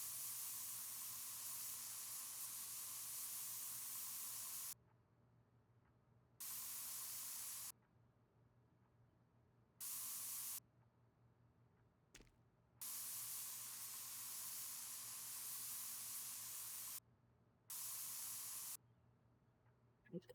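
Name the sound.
spray painting in Spray Paint Simulator video game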